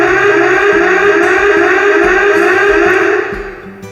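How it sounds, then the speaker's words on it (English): A school washroom panic alarm blares loudly and continuously as a steady siren-like wail, with a faint pulsing underneath, before tapering off near the end. "as well as a panic alarm"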